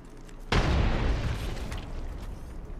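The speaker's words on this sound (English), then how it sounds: "Grenade out!" A grenade detonates in Apex Legends with a sudden heavy blast, followed by a long rumbling decay that fades over a couple of seconds.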